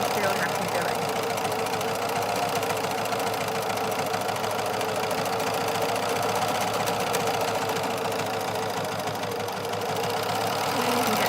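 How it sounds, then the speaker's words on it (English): An overlocker runs steadily while sewing a seam on fabric, its fast mechanical whirr and rapid stitching chatter continuing unbroken at close range, with a voice talking over the machine. "when you overlock it, this will all get chopped off"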